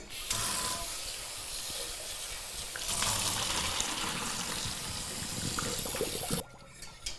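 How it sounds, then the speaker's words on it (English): Cooked tortellini being drained in a kitchen, a steady rush of pouring water for about six seconds that cuts off abruptly, with no talk over it. "you're whisking and showing that to Alex, I'm going to go ahead and drain the tortellini here."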